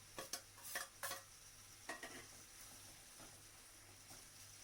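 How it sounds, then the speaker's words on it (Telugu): Pieces of okra go into a pan of simmering fish curry: a quick run of metal utensil clinks and scrapes, then a soft, steady sizzle, faint and close. "బెండకాయ ముక్కలు వేసేసుకుందాం అండి"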